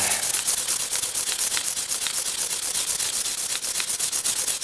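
Hand sanding a button pen with sandpaper in quick side-to-side strokes, a steady dense scratchy rasp with rhythmic pulses, close and continuous with no talking.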